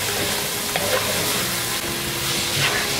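Chopped onion, carrot and celery frying in a pot: a loud, close, continuous sizzle with occasional faint scrapes and stirring clicks, steady throughout.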